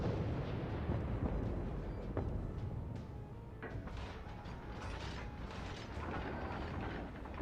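Naval guns firing in World of Warships aboard the USS Charleston (C-22) cruiser: deep booming blasts and rumbling reports over a dense, continuous roar of battle ambience, loud and steady throughout with no speech.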